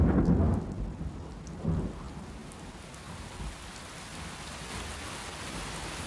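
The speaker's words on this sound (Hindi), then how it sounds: "टेपुई की खड़ी चट्टानों से रेन फॉरेस्ट की नमी ऊपर पहुंच जाती है, फिर मूसलाधार बारिश होती है।" Torrential rain pours steadily in a rainforest below the cliffs of a tepui, a dense hiss with low thunder rumbling near the start, and no voices.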